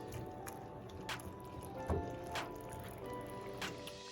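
Squash softening in a pan with a little over half a cup of water, giving faint intermittent drips, pops and sizzling crackles of simmering and steaming, with no voices.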